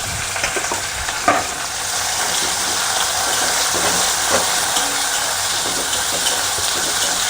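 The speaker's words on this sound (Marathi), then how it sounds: "लसूण भाजला मिरची आणि कांदा" Garlic, green chili and onion fry in hot oil with asafoetida for a spinach bhaji, making a loud, continuous sizzle and hiss with a few soft stirring knocks.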